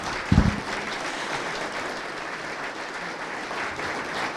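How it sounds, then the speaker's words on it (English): Steady applause from a seated audience at a panel event honouring a group of women, with a brief louder burst near the start, then even, sustained clapping filling the room throughout. "let's give these wonderful women a round of applause"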